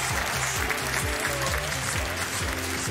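Studio audience applause on a Polish TV game show, a dense steady wash of clapping running under loud music with a repeating bassline.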